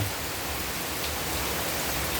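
Steady rain pours down outside a shop, a dense, even hiss of falling water that stays loud and constant throughout.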